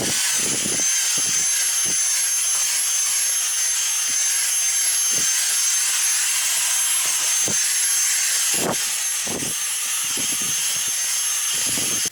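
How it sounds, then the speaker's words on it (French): A vacuum cleaner runs continuously close by while cleaning Tesla floor mats, a steady high-pitched whine with brief thumps and rustles as the nozzle passes over the mats. "on peut passer un petit coup d'aspirateur pour enlever la terre et la poussière"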